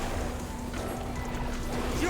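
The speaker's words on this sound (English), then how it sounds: "one of the neighbors is probably on his tractor out doing some shenanigans" A neighbor's tractor drives outside a house in a cold Icelandic farming community, heard as a steady, fairly faint low engine drone with a faint constant hum running through it, unbroken for the whole stretch.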